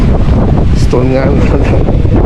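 Strong wind buffets the microphone at a scenic overlook in Bulalacao, Oriental Mindoro, a loud, constant rumble, with a brief voice heard through it.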